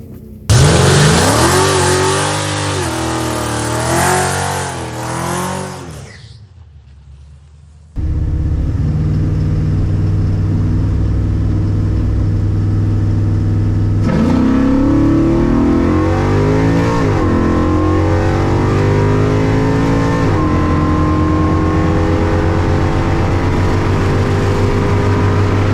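A drag car with a freshly built engine makes a pass on a drag strip, revving hard and loud up close. The engine note climbs through rising sweeps, cuts out briefly, then roars back as a sustained, heavy drone.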